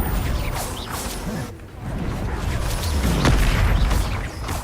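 Confringo blasting spell cast repeatedly in the Hogwarts Legacy video game, producing loud booming explosions and crashes with whooshing bursts amid dense, continuous combat noise.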